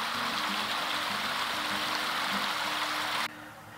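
A friendly babbling brook runs beside a sunny hiking path in the Eifel, a steady, close, broadband rush of flowing water that continues without pause until it drops suddenly near the end.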